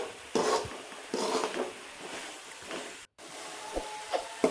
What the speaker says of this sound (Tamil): அது வரைக்கும் நல்லா மிக்ஸ் பண்ணிக்கலாம்.